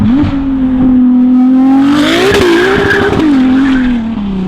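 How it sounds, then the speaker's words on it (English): A Ferrari 296 V6 sends out a loud, continuous exhaust note that rises and falls in pitch as the revs change, heard up close with no talking. "this car has the best sounding V6 out right now"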